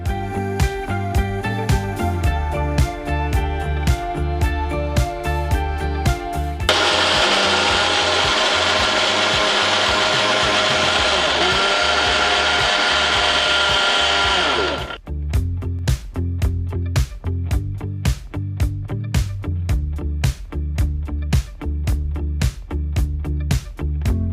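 A mixer grinder blending a mix with salt and peanut butter whirs in a loud, steady roar for about eight seconds, with rapid rhythmic knocking before and after.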